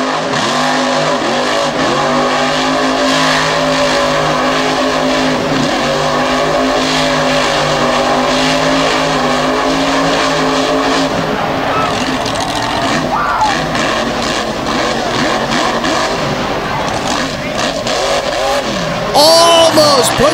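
A monster truck engine roars loudly and continuously through a freestyle run at the 2022 Thunder in the Valley event, surging with repeated revs across the whole stretch as the truck slings dirt, with its engine smoking.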